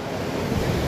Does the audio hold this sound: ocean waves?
yes